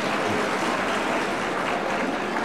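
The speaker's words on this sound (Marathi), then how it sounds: "अरे आता टाळ्या वाजवा ना" A crowd at a political rally applauds to welcome Uddhav Balasaheb Thackeray, a dense, steady wash of many hands clapping that fills the whole stretch at an even level.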